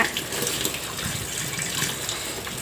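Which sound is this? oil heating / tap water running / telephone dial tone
tap water running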